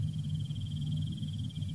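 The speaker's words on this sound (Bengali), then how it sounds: "ঝিঁঝি পোকা আর মুগড়ো পোকা ডাকছে বনে ঝোপে।" Crickets and mole crickets chirp in dense jungle bushes at night, a rapid, even pulsing trill running steadily through the short stretch over a low background hum.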